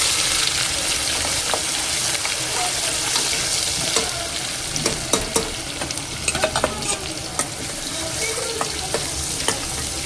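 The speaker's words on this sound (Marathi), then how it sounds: "आता या स्टेजला मी आता ॲड करणार आहे बारीक चिरून घेतलेला कांदा." Finely chopped onion frying in oil with whole spices in a pressure cooker for veg pulao, giving a loud continuous sizzle with clattering stirs and scrapes that grow busier partway through.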